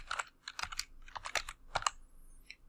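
Typing on a computer keyboard, close and crisp keystrokes in quick clustered bursts with short pauses between them in an otherwise quiet room.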